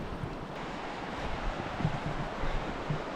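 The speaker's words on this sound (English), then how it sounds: "so this is the river" Water of a river rushing through a gorge near Jermuk, a steady broad roar with wind buffeting the microphone throughout, no voices.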